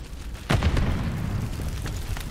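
A grenade detonates in Call of Duty Modern Warfare 3 multiplayer with a heavy, close boom that rolls into a lingering rumble, with no talk in the clip.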